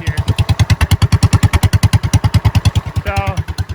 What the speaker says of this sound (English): Kind of sounds pretty thumpy when you really listen to it here.